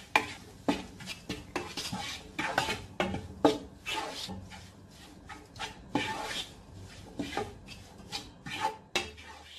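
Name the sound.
mixing soy sauce and vinegar into egg fried rice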